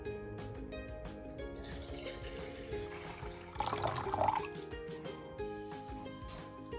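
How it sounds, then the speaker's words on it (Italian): About 300 ml of water poured into a container on a kitchen scale as a soapmaking ingredient, a steady splashing trickle that swells briefly in the middle, close and alone. "Come secondo ingrediente ci servono 300 ml di acqua. Andiamo a pesarli."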